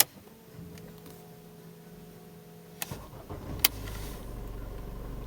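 A Mercedes B-Class engine is started after a quiet moment with a faint hum, then a short crank and a sharp catch before it settles into a low, steady idle, close by and without talk.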